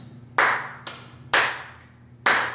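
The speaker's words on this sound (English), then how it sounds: "So here's my 8th count." Hands clap an eighth-note count in 3/4 time, four sharp close claps with strong louder ones alternating with a softer one, in a quiet room.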